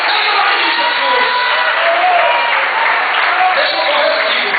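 A church congregation breaks into sustained, dense applause with scattered cheers and whoops, a steady wash of clapping filling the whole stretch at close, loud level.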